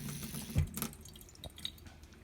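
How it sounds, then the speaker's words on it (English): Water from a kitchen faucet pours into a pot, a thin steady trickle with a clunk near the start and small clicks and drips as the flow is shut off. "And then I'm going to turn off my water."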